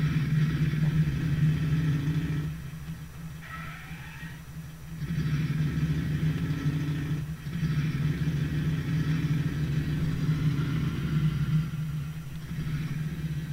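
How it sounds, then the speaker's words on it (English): A motorbike engine in a modded Fallout 3 game rumbles steadily with a low, constant drone, briefly easing off twice before picking back up, with no voices over it. "So I'm just going to take it easy this time and drive my motorbike there."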